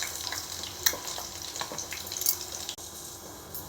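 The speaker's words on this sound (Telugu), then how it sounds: "గుడ్లు వేపుకుని పక్కకు తీసుకోవాలి" Eggs frying in a pan for an egg and dried fish curry: steady soft sizzle with crackles and a few scraping stirs, moderately quiet and close, no talking.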